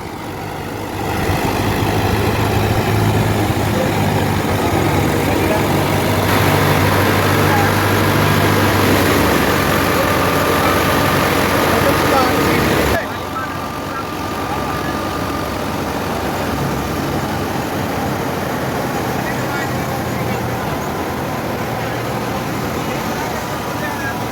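A New Holland Fiat 640 tractor engine runs steadily while driving a wheat thresher, a loud continuous low rumble and mechanical drone that drops slightly in level partway through, with voices faintly mixed in.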